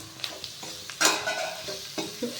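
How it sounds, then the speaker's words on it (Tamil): Onions and mushrooms sautéing in a pan, with close scraping stirs and light clinks over a steady soft sizzle, no talking. "வெங்காயம் மட்டும் போட்டு வதக்கிட்டு, வெங்காயம் வதங்கினோடனே நம்ம மஷ்ரூம் போட்டுக்கலாம்"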